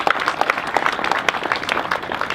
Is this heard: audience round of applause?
yes